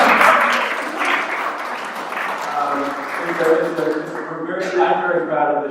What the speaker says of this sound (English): Yes, go ahead, clap.